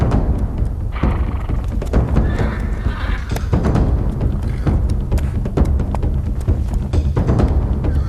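A horse neighs loudly and gallops with heavy clip-clop hoofbeats at a Japanese mounted archery school in Kamakura, the hooves thudding close by throughout.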